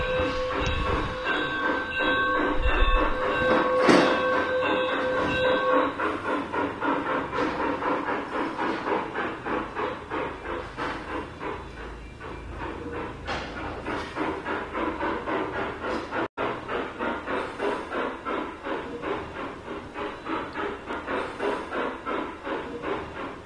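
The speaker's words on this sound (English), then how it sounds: "Now the train is going to pass in front of the town of Fort Bragg, over here." A G-scale model train runs steadily along a large garden layout, its wheels clicking in a quick, even rhythm over the rail joints. An early hiss fades, and the running sound stays loud and continuous throughout.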